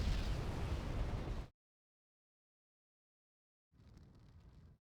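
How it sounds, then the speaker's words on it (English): Gazelle helicopter 20 mm autocannon fire in the strategy game Wargame: Red Dragon rips out as a loud dense burst, cuts to silence, then returns as a fainter sustained rattle. "Yep, Gazelle cannon, you could see the 20 mm autocannon."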